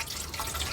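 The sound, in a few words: water being added to a cooking mixture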